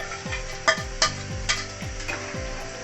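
Soaked haleem mix goes into a pot of boiled meat, with soft bubbling and sizzling plus a few sharp clinks of a spoon against the pot at regular intervals, fairly quiet and with no voices.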